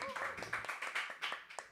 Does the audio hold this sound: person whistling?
no